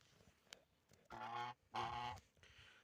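Two loud, harsh goose honks in a row, each lasting about half a second, with quieter background noise and faint clicks around them.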